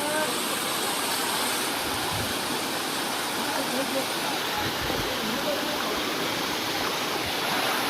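Rushing water roars steadily and loudly throughout at the Jatashankar waterfall stream near Girnar, Junagadh, swollen after heavy rain, close by.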